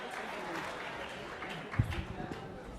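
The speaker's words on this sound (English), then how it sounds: "give her another round of applause" An audience applauding for Angela Rye at an event, a soft, steady patter of clapping heard from some distance, with a few louder thumps near the end.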